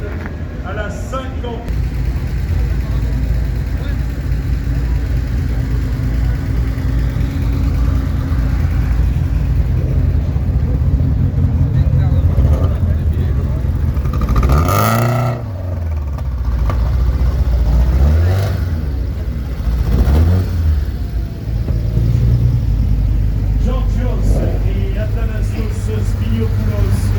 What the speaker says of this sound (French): À l'arrivée de l'équipage numéro 6. Tom Hotvet et Leigh-Van Nesset, la Porsche 911 S 2 litres 7 à la 50